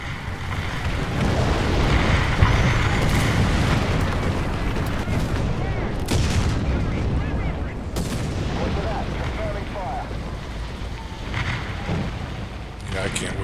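Artillery strike and gunfire in a tank combat video game, a dense roaring barrage with sharp blasts punctuating a continuous rumbling wash, loud and sustained throughout.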